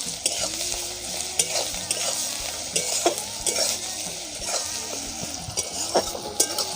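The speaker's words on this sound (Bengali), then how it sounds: "পেঁয়াজটা ভাজা হয়ে গেছে, এবার আমি রসুন বাটা দেব" Garlic and ginger paste frying with browned onions in a pan for chicken singara filling, with a bright continuous sizzle under frequent spoon scrapes and stirring clacks.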